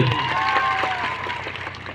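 An audience claps loudly at a public gathering in Katu village, Ghoghamba taluka, with a dense burst of applause that slowly fades, a faint voice or tone briefly showing through.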